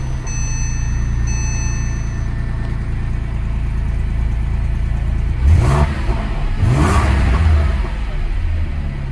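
A 2007 Porsche 911 S idles in a showroom, its steady engine hum joined by a couple of sharp revs near the end; faint beeps sound early on.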